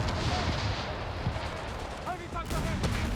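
Artillery fire in Company of Heroes 3 during a 2v2 match: low, rumbling booms and crackling blasts roll continuously under a man's speech.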